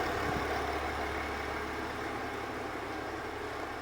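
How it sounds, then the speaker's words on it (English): GMC Yukon XL Denali's Duramax LM2 diesel engine idling during an oil change, a steady low rumbling drone that runs evenly and close throughout. "Time to shut off the engine."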